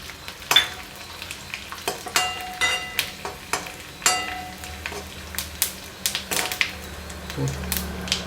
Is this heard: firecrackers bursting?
no